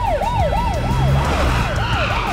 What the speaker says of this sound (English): sirens away.